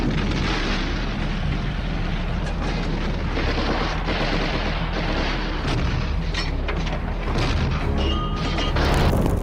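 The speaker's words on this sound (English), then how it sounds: "Suddenly, the roar of panzer guns broke the silence. German tanks and troops opened fire" Dense, continuous battle din of German panzer guns and troops firing in a war-torn city: booming explosions and crashing gunfire pile up steadily, loud and close, with no clear talk.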